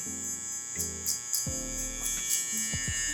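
A barber's electric hair clippers with the lever closed buzz steadily with a bright whine while being tapped along a taper line, giving a few brief thuds and pitch shifts.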